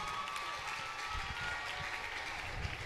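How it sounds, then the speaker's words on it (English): A gathering at a religious youth event breaks into applause, a dense continuous patter of clapping from a group that stays steady throughout, with a few low thumps underneath. "A round of applause for her."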